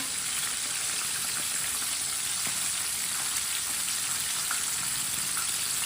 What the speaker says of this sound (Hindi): तीन मिनट के लिए चिकन को फ्राई कर लेते हैं।